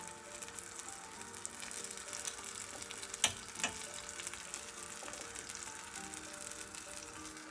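Meat frying in a pan gives a soft, steady sizzle, with a couple of brief sharp clicks from utensils partway through and no voices.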